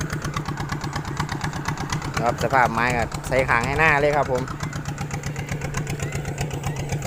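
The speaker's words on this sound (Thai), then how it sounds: "อยู่ใกล้รถไถครับผม รถไถมันก็ตีดิน" A tractor engine idles in a steady, close mechanical chug while tilling soil in a field, and someone talks over it in the middle.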